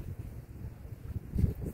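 Wind blows outdoors under blue skies, a low, soft buffeting on the microphone with one stronger gust near the end and no talking.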